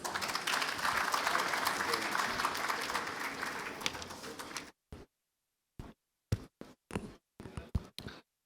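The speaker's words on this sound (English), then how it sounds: "Applause, please." Applause from an audience at a business leaders' event in Islamabad, a dense steady clapping for several seconds that cuts off abruptly, followed by a few isolated sharp taps and knocks in near silence.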